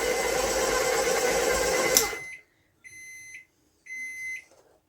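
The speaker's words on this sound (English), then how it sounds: "My oven's about to beep. There it goes." Loud noise cuts out, then two clear electronic beeps from an oven timer ring out alone in a quiet kitchen, evenly spaced.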